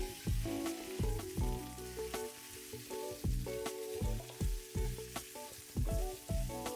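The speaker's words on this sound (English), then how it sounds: "we're just gonna cut these into quarters and drop that into the pan" Quartered Roma tomatoes drop into a hot frying pan and sizzle steadily, with repeated sharp clatters and stirring knocks from a utensil against the pan, close and fairly loud throughout.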